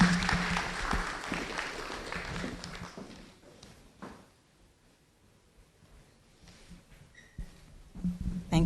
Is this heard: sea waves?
no